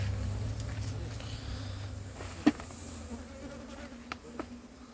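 Honey bees buzzing during a honey harvest, a faint steady hum close by with a sharp tap and a few small knocks.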